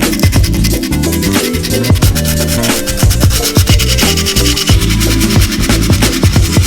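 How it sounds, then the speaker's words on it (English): A cracked wheel rim being sanded by hand, with loud, rapid, rhythmic rasping strokes repeating steadily throughout and no talking. "Then we can sand both sides and it should be pretty good just doing it that way."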